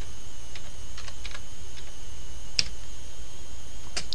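Computer keyboard typing with scattered light key clicks, a few louder isolated taps, over a steady background hum with no talk.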